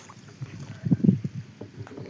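A rowboat glides on water during a fishing outing, with soft, low sloshing and paddle-like splashes that swell briefly in the middle. The sound stays quiet and close.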